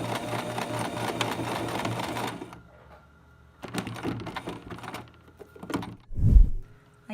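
Sewing machine backstitching elastic onto a fabric face mask, a rapid close mechanical stitching burst that stops, then a shorter second run and a low thump.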